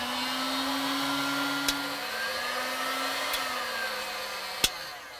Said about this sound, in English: we're going to bring the heat gun, and we're going to very carefully shrink those sleeves